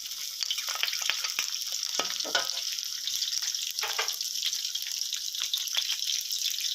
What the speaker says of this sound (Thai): ใส่ กระเทียมโขกลงไปนะครับ หรือว่ากระเทียมทุบนะครับใส่ลงไปนะครับ แล้วผัดไปเรื่อยๆ นะครับ